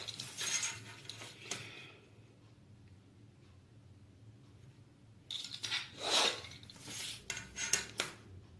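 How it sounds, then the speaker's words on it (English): Card paper for an explosion box scored with quick strokes, heard as close, scratchy rasping bursts in two clusters separated by a quiet pause, fairly faint with no talking. "So we are going to score it very fast."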